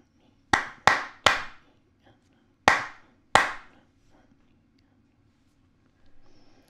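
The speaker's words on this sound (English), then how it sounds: "Line 2, I'm going to clap 6, 8, 2, and 9." Hands clap a short rhythm for a Leaving Cert music exam: three quick sharp claps, a pause, then two more, crisp and close in a quiet room.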